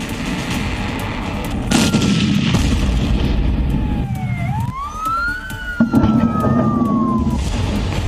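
A loud, roaring blast as a parked car explodes on a Tehran street, with heavy rumbling that fills the scene, while a wailing siren rises and falls over the din.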